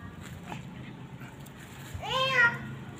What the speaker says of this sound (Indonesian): meong ada meong teman-teman